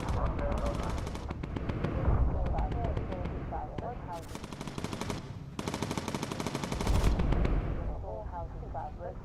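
Anti-aircraft flak and machine-gun fire in a VR flight video game, a dense, continuous rattle of rapid shots layered over a low rumbling roar, loud and near, with a voice talking over it.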